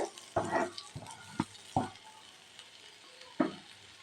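Masala sautéing in a pan while making hotel-style egg rice, a few soft scraping stirs and faint sizzle heard close up, with quiet gaps between strokes.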